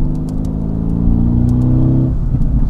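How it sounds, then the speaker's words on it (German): Mercedes-AMG GT exhaust revving loudly in race mode at a track, a close, continuous throaty drone with faint sharp pops that drops in pitch toward the end. "Wie der so hinten raus, dieses Backfire."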